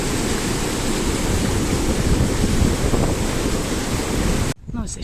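Loud, roaring rush of churning water in Galway with gusty wind buffeting close by, continuous and turbulent until a brief drop near the end.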